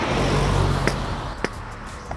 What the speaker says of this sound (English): Yo, there's so many cars.